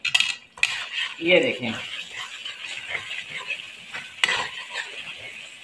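Boneless Lahori chicken handi stirred in a pot after crushed black pepper is added, with close metal spoon scrapes and clinks over a soft sizzle and a brief spoken phrase.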